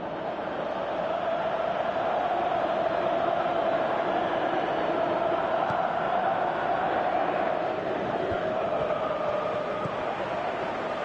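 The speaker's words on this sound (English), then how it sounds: "you can hear how the crowd are reacting to this too" A stadium crowd roars continuously in the PES 2018 football video game on PS4, a loud, dense, unbroken wash of cheering and murmur throughout.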